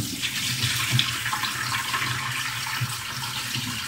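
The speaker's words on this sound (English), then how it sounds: "You refill the pot with water and you rinse off the salt water." Water poured into and running in a pot to rinse salt water off salad, a steady broadband splashing rush that stays continuous and close throughout.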